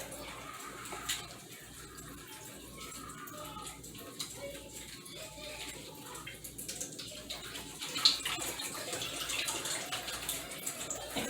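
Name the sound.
cold tap water running while rinsing lasagna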